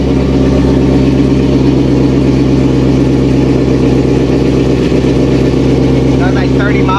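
A loud car engine runs steadily with its exhaust open before the manifold is refitted, a deep continuous drone with heavy low rumble throughout, and voices talk over it.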